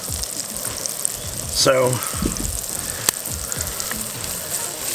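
Sausage frying in butter with garlic and basil in a pan on a single-burner camp stove, a steady close sizzle throughout with a brief scrape of stirring, while someone speaks a word over it.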